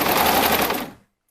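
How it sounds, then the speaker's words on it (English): A home sewing machine runs a fast, steady stitching burst while sewing elastic into the seam of a gown's V neckline, loud and close, then stops abruptly after about a second. "I will baste on my sewing machine"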